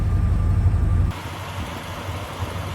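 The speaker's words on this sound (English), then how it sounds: "you can hear there's a bit of a rumble from the exhaust" A 1996 Chevrolet Impala SS engine idles with a low exhaust rumble, heavy at first and then settling into a steady, quieter idle.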